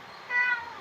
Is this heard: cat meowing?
yes